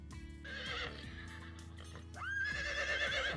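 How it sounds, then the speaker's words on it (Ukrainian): A horse whinnies loudly twice, a long shrill neigh with a second rising call, over steady low rumbling and a few hoof-like knocks. "А це звук тата коня."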